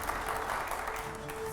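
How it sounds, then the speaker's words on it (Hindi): An audience claps loudly and steadily, a dense wash of applause filling the room at a live Hindi political discussion with a panel of editors. "अगले सवाल के लिए जोरदार तालियां हो यहां पर।"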